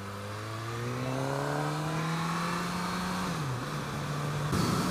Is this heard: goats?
no